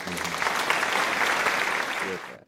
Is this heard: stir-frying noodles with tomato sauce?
no